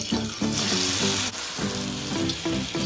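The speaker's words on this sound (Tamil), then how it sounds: "இப்போ வந்து ஒரு பொட்டேட்டோவை இதில்" Potato wedges frying in hot oil with a loud, steady sizzle and crackle close by, bubbling surges rising and falling throughout.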